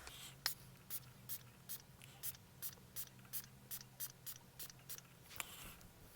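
A fine mist sprayer of makeup setting spray fires in a quick series of short, hissing puffs, about a dozen evenly spaced bursts, quiet and close.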